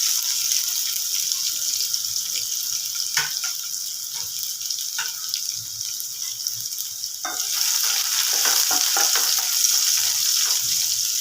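Dried red chilies and finely chopped garlic, with cumin, sizzle in hot oil as a steady bright hiss, a few sharp crackles and stirring scrapes, the frying growing louder partway through.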